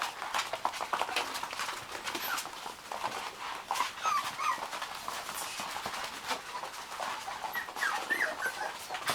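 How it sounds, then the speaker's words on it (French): A big dog whimpers and gives faint yips amid a busy wash of clattering, scuffling noise. "Ouh là, il est gros ce chien."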